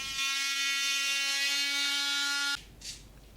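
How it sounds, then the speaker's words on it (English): An M18 multi-tool buzzes in a steady high-pitched whine as it cuts into a metal subframe connector on a Foxbody Mustang, running for about two and a half seconds before stopping abruptly, followed by faint handling noise. "I just use this M18 multi-tool to kind of cut a little bit deeper here to get that"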